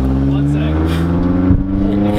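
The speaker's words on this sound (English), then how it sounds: "His exhaust is too loud" A car with a loud exhaust revs and drones steadily, its deep engine tone holding close and strong throughout, with a brief surge near the end while people talk over it.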